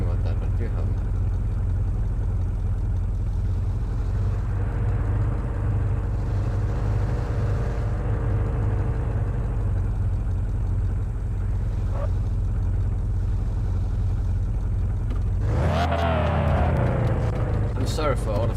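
A car engine drones continuously in the video game The Radio Station, a low steady hum that surges into a louder rising roar near the end.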